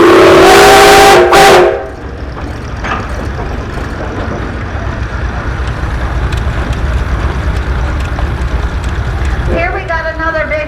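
A 1908 Farquhar antique tractor of 1545 horsepower runs in a parade. A loud whistle blast comes first, followed by a steady, close mechanical rumble that continues to the end.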